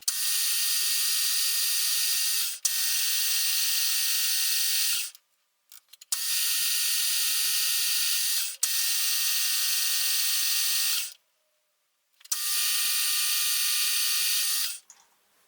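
A metric lead screw thread is cut for a shaper, producing a steady, high, hissing mechanical whir in several long passes of about two to three seconds each. Short silent gaps separate the passes.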